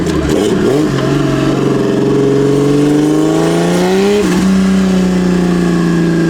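A turbocharged Jeep XJ engine revs on a dyno, rising and falling through rev-matching shifts. The engine is loud and close throughout, and its pitch climbs in steady sweeps. No one talks.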